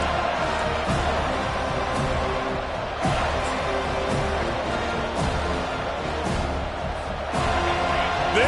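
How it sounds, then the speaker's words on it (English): A football stadium crowd at a Week 0 game keeps up a loud, continuous roar, punctuated by a few sharp thumps and swells. "This crowd, full throat, splitting the eardrums"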